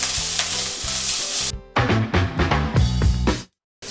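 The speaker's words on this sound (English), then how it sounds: "we've just seen Daniel adding some sugar to caramelize the onions" Onions caramelizing with sugar in a pan, a loud continuous sizzle broken by bursts of stirring and scraping, close and with no talking.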